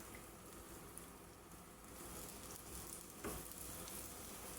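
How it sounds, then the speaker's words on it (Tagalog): Saba bananas fry in olive oil with a soft, continuous sizzle and crackle, heard close but faint, with a brief clatter partway through. "prito sa olives oil."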